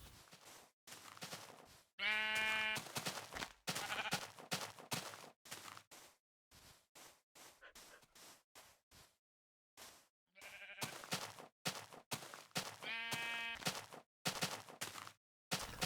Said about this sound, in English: A lot of sheep today. Just the whole day, a lot of sheep.